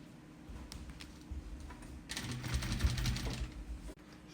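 Sewing machine stitching a small luxury vanity-case bag, running a seam to the end, a steady mechanical whirr that grows louder and busier in its second half, close by with no talk.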